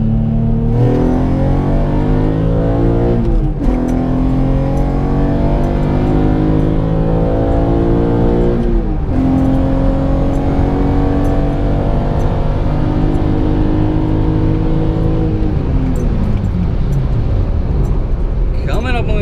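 A car with a hybrid Honda J32/J37 engine and nitrous climbs steadily through the gears under hard acceleration from a 40 mph roll, rising tone resetting at each shift, loud and continuous from start to finish.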